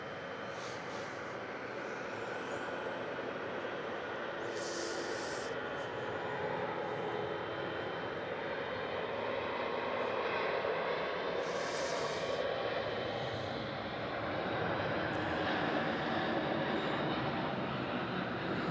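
A Cebu Pacific airliner takes off from Melbourne Airport at night, giving off a distant, fairly faint, steady engine rumble that builds slightly toward the end. A few brief hisses cut in over it.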